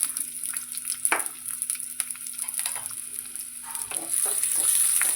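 Chopped onion frying in coconut oil in a pan, a steady close sizzle and hiss with a few soft stirring scrapes, swelling slightly louder toward the end.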